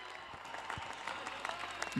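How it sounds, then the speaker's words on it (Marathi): Distant cricket crowd applause rattles steadily throughout, mixed with a commentator's voice speaking over it. "तर जोरदार टाळ्या झाल्याच पाहिजेत"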